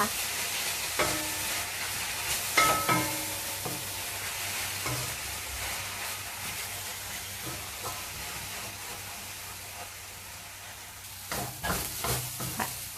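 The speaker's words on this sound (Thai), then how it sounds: "ทีนี้ก็ผัดไปจนทุกอย่างสุกแล้วก็ชิมรสกันได้ตามชอบเลยนะคะ" Shrimp and enoki mushroom spring roll filling seasoned with light soy sauce and sugar, stir-fried in a pan with a steady low sizzle and scraping spatula strokes, a few sharper knocks and clatters near the start and end.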